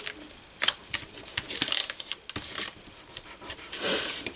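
Paper scrap bag being glued and folded by hand, with close rustling, rubbing and crinkling of paper in uneven bursts throughout.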